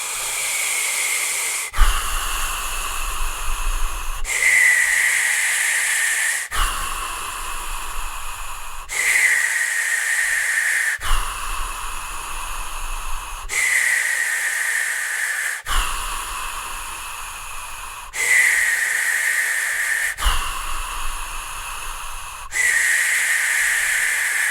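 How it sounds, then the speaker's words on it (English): Loud, rhythmic diaphragmatic breathing in a continuous cycle of deep hissing inhales and exhales, about ten breaths with no pauses between them, close to the mic. "This is continuous diaphragmic cyclical breathing"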